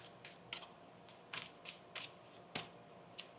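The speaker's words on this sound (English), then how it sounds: "One more shuffle here." Tarot cards being shuffled by hand, giving a series of quick, crisp riffling bursts at irregular intervals, close and fairly quiet, with no talking.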